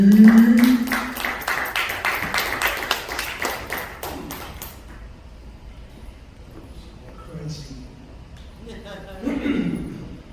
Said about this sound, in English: Give it up, one round of applause for Mr.